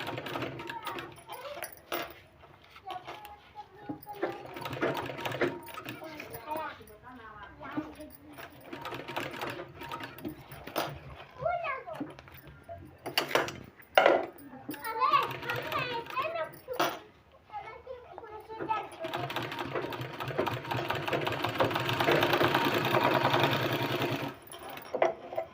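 A sewing machine stitches a garment sleeve in short, repeated bursts of rapid mechanical whirring, separated by pauses while someone talks nearby.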